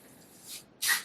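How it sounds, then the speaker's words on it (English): Two quick spritzes from a small spray bottle mist into a cocktail, the first soft and the second sharper and louder, alone. "So you can spray these in your drink."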